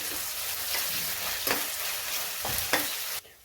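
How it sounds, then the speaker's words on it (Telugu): Coconut paste sizzles steadily as it fries in a pan, with a few sharper stir scrapes along the way before the sound drops off abruptly at the end. "1 స్పూన్ కొబ్బరి పేస్ట్ వేసుకుని మంచిగా ఫ్రై చేసేసుకోవాలి."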